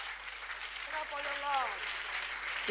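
A church congregation applauds in worship, a dense wash of clapping heard close and sustained, while a voice speaks over it.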